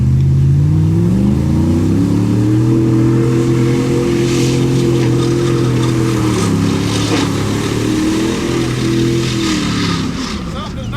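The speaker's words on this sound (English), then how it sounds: "Something does not sound good in that truck." Mud truck engine revving at an outdoor mud event in South Georgia, a loud rumbling drone that climbs and drops in pitch over several seconds, with crowd noise and voices throughout.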